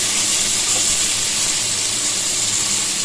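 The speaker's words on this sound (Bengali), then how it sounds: "এবার এর মধ্যে আমি দিয়ে দিচ্ছি একটু পেঁয়াজ কুচি আর টমেটো কুচি।" Chopped onion and tomato frying in hot oil with black cumin in a wok, a steady dense hiss of sizzling that stays loud and even throughout.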